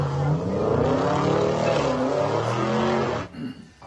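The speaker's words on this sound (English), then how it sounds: "I-77 southbound shut down by drag racers Yeah, and go people ahead. doing burnouts" Drag racers doing burnouts on an I-77 highway: a continuous roaring engine with squealing, wavering revs for about three seconds, heard at a distance through a recording, then cutting off abruptly into faint background noise.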